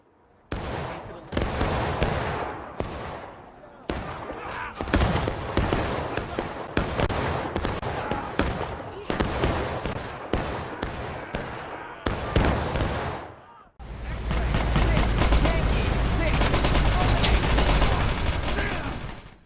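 Volley gunfire in War of Rights: repeated crackling bursts of musket shots, some ragged and some tightly grouped, followed by a sustained, loud wash of continuous firing.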